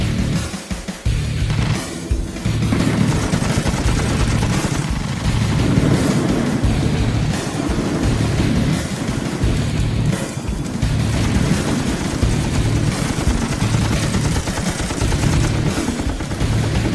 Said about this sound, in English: Bravo, friendly fire, taking friendly fire.